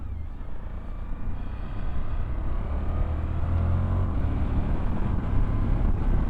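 A 2023 Suzuki V-Strom 1050DE climbs a hill, its engine droning steadily and close with a low rumble and rising pull, wrapped in continuous wind rush and no talking.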